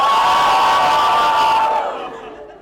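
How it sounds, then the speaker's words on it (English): An indoor crowd of people cheers and shouts together loudly and close, then the roar fades away toward the end. "Okay, cheer for Sindhu"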